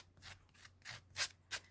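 Scissors snip and scrape along paper edges to distress them, a few soft, close cutting strokes with two sharper snips near the end, quiet and without speech.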